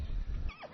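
A Yili horse on a horse ranch in Xinjiang gives a short, close neigh. Low rumbling comes first, then a quick rising and falling whinny.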